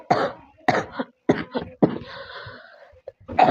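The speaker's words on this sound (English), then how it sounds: "I started coughing, constantly coughing" A person coughing repeatedly and close by, a series of harsh, separate bursts with short pauses between them, ending in a strained, drawn-out hack and a final cough.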